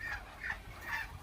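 Ducks calling in a small duck-rearing shed on a farm, several short nasal quacks in a loose rhythm across about a second, fairly faint with no talk.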